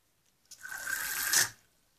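Water, about 300-400 millilitres, poured into a container to mix an organic fertilizer for pricking out tomato seedlings: a single close, steady pour of roughly one second with a bright splashing rush that ends abruptly.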